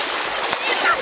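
Water splashing as people bathe in the Barak River in Assam, a brief, busy spatter close by, with voices talking over it.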